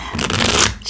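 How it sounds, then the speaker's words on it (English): A deck of tarot cards shuffled up close, one quick riffling burst of papery flutter lasting about a second, loud and alone. "One more shuffle"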